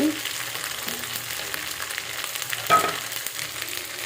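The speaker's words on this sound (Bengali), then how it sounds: "এক পট চাউলের বিরিয়ানি করব আগে এটাকে তেলের উপরে ভেজে নিব" Rice frying in oil in a pot before making biryani, a low steady sizzle with a brief louder stirring scrape midway, no talking.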